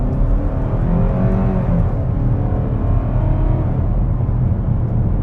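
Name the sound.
Hyundai Tucson naturally aspirated engine accelerating from stop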